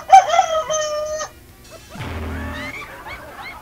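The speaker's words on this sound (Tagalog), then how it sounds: "May manok ka dyan?" A rooster crows once, loud and close, with a long harmonic call that fades out in the opening second, followed by softer clucking and a brief squawk from nearby chickens.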